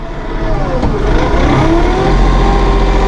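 A 2016 Massey Ferguson 1736 Premium Cab compact tractor engine runs with its shuttle transmission set slow, giving a steady, loud, close-up mechanical drone that holds even throughout with no speech.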